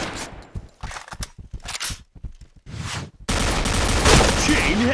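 Rapid gunfire bursts crack out in a shooting video game, with clustered shots separated by short gaps at first, then a dense sustained barrage of firing and mixed game effects.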